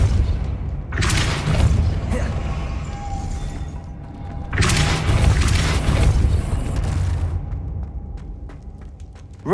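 Depulso force spell cast in Hogwarts Legacy, heard as two heavy booming blasts a few seconds apart, each a loud broad whoosh with a deep rumbling tail, set over low game ambience.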